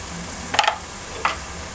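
Malvani masala frying in oil in a pan as oil separates from the spice paste, with a steady faint sizzle and two brief stirring scrapes close by, no voices.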